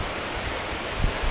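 A hidden waterfall gives a steady, broad rushing roar of falling water, continuous and fairly loud over a short stretch, with no voices.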